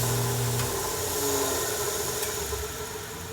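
A sanding and grinding machine runs steadily with its wheel spinning true, a constant loud mechanical drone and hum with no change in pitch and no talk.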